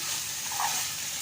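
Ginger and garlic frying in hot oil for a chicken curry with potato, a steady close sizzle and hiss with soft stirring, continuous and alone without any voices.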